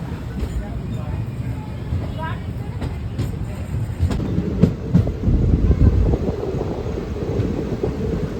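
Rumbling of a train running at night, with a low rolling drone and occasional clanks and thumps, steady and close throughout.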